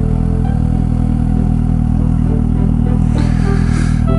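A Suzuki GSX-S750 motorcycle idles close by with a steady, even engine rumble and mechanical clatter as the clutch is worked, with a slight rise in engine note near the end.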